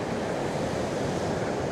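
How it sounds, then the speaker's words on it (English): Ocean surf rolling in at Kure Beach, a steady, full wash of breaking waves with wind noise on the microphone and no voices. "enjoying some guys out there catching a few waves, a little surfing going on"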